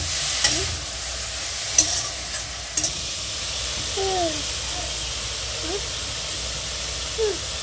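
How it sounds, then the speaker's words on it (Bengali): Grated carrots frying in ghee for Bengali gajar halwa, a steady loud hiss with occasional stirring knocks against the pan, and faint voice sounds. "এই ঘিতে একটু গাজরটা ভালো করে ভেজে নেওয়া হবে।"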